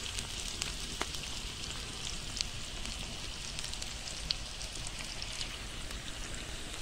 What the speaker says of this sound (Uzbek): Bir pas qovuramizda piyozni, keyin sabzini solamiz,